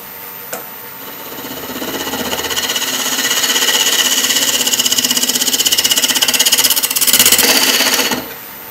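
A wood lathe spins a maple burl container blank, a steady whirring hum that ramps up in speed and holds a loud, even drone before cutting off abruptly.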